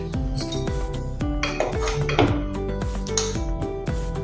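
A metal spoon clinks and taps against a pan while ghee is added to makhana: a series of bright ringing pings and clatters, close and fairly loud, with no talk.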